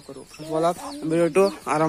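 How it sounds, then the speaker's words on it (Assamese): A hen with newly hatched chicks clucks in short, close, rhythmic bursts, a few quick throaty calls in a row. "ইয়া চাওক মোৰ মুৰ্গীয়ে পোৱালি ফুটাইছে"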